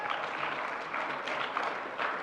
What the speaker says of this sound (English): let's give them one round of applause